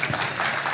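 Brief burst of clapping from wedding guests right after the vows are exchanged, a short dense patter of many hands at moderate loudness.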